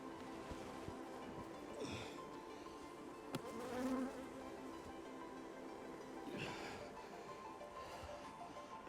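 Steady buzzing of many honey bees flying about a hive, field bees returning, a continuous swarm hum with a few louder passes close by.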